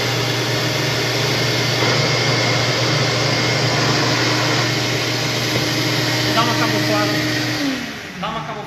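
A RIDGID wet and dry shop vacuum runs with a loud, steady roaring whine and airflow rush close by, then winds down near the end.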